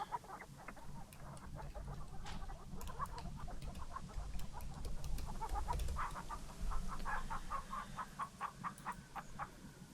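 Chickens clucking in the King's Quest III remake video game, repeated short clucks and squawks over a low ambient game background, moderately quiet and continuous, no talk.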